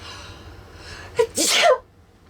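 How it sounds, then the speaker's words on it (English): A single sneeze, a short sharp inhale followed by a loud burst, close and alone after a quiet moment. "I think I'm gonna sneeze"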